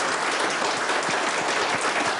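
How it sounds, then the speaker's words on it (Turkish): Steady applause from an audience at a Turkish gathering, clapping for the speaker's team members, a dense even wash of many hands held at a constant level. "Onları da bir alkışlayalım."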